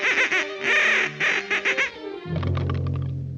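A 1941 cartoon duck lets out a quick series of nasal, honking quacks in short bursts, followed by a sustained lower tone. The sounds are loud and close.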